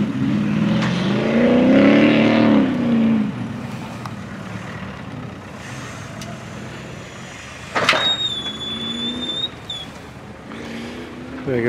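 Land Rover Discovery driving off-road in an extreme off-road event, engine surging and revving as it passes at moderate distance, with outdoor background noise and a brief squeal later.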